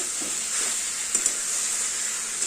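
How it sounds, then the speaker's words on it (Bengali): Fried hilsa fish pieces being lightly stirred into a pan of vegetables with potato and pumpkin, giving a steady soft sizzle with a few faint spoon scrapes, close and alone. "ভাজা মাছগুলো এবার দিয়ে দেবো দিয়ে হালকা নাড়াচাড়া করে"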